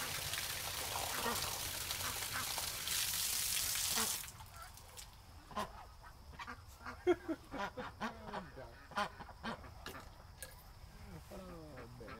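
Ducks quack repeatedly in short bursts after a loud rush of spraying noise stops, with some water sounds in the background.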